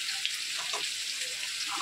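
Potatoes frying in oil for a meat curry, a brief bright close-up sizzle with soft crackles and a small pop, no voices.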